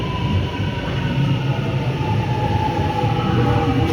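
A Siemens Nexas suburban train runs from Melbourne Central toward Essendon, heard from inside as a steady, loud rolling rumble with a faint tonal hum and no talk.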